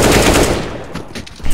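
Rapid automatic gunfire from the video game Counter-Strike: Global Offensive (CS-GO), a dense loud burst that fades in the middle and surges again at the end, with no speech.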